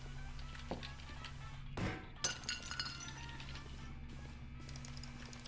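Glass shatters once inside The Stanley Parable, a sharp crash with bright clinking fragments that ring out briefly over a steady low game hum.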